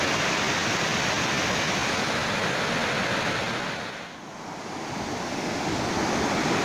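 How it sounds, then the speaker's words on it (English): Powerful rushing water from a rising flow roars loudly and close, a steady dense wash of noise that dips briefly for a moment before surging back to full strength. "A lot of noise, a lot of power in the water."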